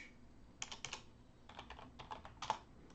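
Quiet, quick keystrokes on a computer keyboard while data is entered into a spreadsheet, the taps arriving in brief irregular bursts with short pauses between them and no talking.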